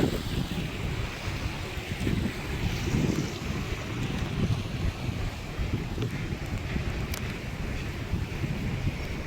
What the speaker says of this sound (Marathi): एवढा वारा का बघा.